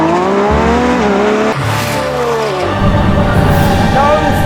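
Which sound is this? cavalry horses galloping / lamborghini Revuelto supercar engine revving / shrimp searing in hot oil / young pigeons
lamborghini Revuelto supercar engine revving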